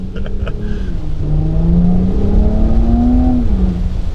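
A 2024 Porsche Cayenne S E-Hybrid engine droning steadily and loud, its pitch rising slowly and smoothly as it accelerates, with a low whirring hum underneath.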